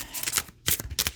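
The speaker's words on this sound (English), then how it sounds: "So let me give it a couple shuffles." Starseed Oracle cards being shuffled by hand in quick riffling bursts, close and crisp, with a short pause midway before the shuffling resumes.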